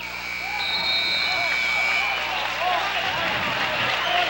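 A steady electronic shot clock buzzer blares for a second or two inside a 1996 college playoff basketball gym, sounding over running crowd noise and an announcer's voice.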